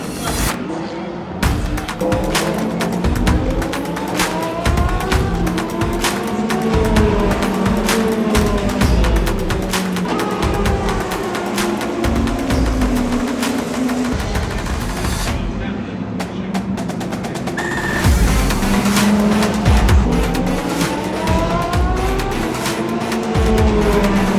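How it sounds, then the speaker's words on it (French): Hypercar race cars, including a Porsche 963, roar past on a circuit during a WEC test, with continuous loud engine noise, rising and falling passes, and sweeping pitch changes. "on va se mettre à un endroit pour regarder les voitures rouler sur le circuit directement"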